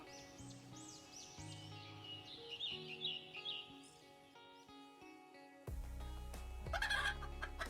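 Chickens cluck and call over a steady musical background, with the sounds growing louder and busier toward the end.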